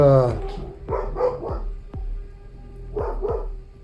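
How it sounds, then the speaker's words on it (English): Several dogs bark in a loose series of sharp, fairly close woofs, with about six distinct barks spaced unevenly across the few seconds and a higher yelp at the start. "Neighbors' dogs. Our dogs. Dogs. Maybe some coyotes."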